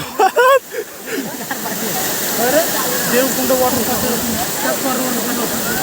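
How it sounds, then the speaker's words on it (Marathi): A continuous rushing roar of a waterfall at Torna Fort in monsoon rain fills the clip, with a brief voice near the start and some chatter mixed in beneath the steady wash. "जबरदस्त धबधबा आहे बघा"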